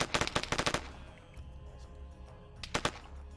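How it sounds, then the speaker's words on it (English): Bursts of automatic gunfire from a helicarrier assault in a military shooter game, a rapid volley of close, loud shots at the start, then a low rumbling lull before a second short burst near the end. "They're shooting through the stairs."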